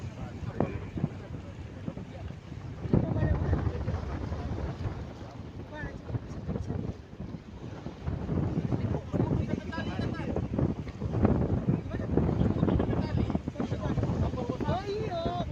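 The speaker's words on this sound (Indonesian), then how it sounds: "Angin ini paling lama." Strong sea wind buffets the microphone aboard the passenger ship KM Barcelona in rough, wavy waters, a steady roaring rush with gusty swells over the full length and faint background voices.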